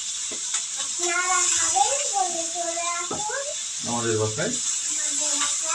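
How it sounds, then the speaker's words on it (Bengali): Potatoes frying for aloo bhaji in a home kitchen pan give a steady broadband sizzle and hiss throughout, sitting under close, continuous conversation from a man and a child. "আমার বাবার আলু ভাজি করছে"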